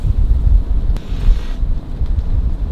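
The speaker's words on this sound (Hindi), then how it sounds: "अभी एकदम ठंडी ठंडी हवा चल रही है" Cool wind buffets a private rented boat cruising in the Sundarbans, a loud, gusty rumble that stays close on the microphone throughout with faint water noise beneath.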